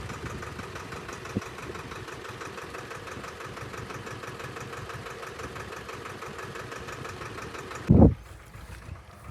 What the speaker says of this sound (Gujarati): આ તો આપણું ટ્રેક્ટર.